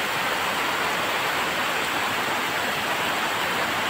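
Heavy rain falls steadily, a dense, even hiss that fills the whole stretch without a break, with no voices.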